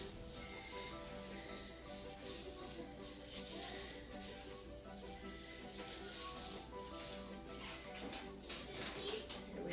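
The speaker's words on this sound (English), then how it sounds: "take the dry rub and rub it all over the rabbits" Dry rub being rubbed by hand onto whole rabbits before smoking, a soft continuous rubbing and rasping texture, fairly faint and close, with some background hum.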